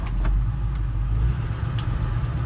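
A 1972 Chevy C10 pickup with a 350 small-block V8 drives along, its low engine rumble close and steady with no voices over it.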